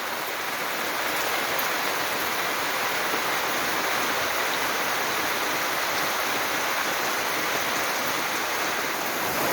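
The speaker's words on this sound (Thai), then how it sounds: "ตอนนี้ผมว่าเจอกับฝนนะครับ" Steady, heavy rain falls outdoors on a rural farm at midday, a dense, unbroken hiss that fills the whole stretch with no other sounds standing out.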